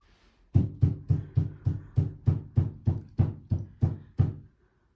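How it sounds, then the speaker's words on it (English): Demolition work on a wall next door: a steady run of about thirteen heavy, evenly spaced knocks or hammer blows, fairly loud and dull, with no talk over them. "sorry about the noise. They're knocking a wall down next door."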